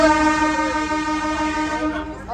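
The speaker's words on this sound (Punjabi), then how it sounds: "ਟ੍ਰੇਨ ਦਾ ਹੋਰਨ ਤੋਂ ਹੀ ਹਰਗੁਣ ਡਰ ਜਾਂਦੀ ਹੈ" A loud, sustained train horn blares steadily for a couple of seconds before cutting off abruptly near the end.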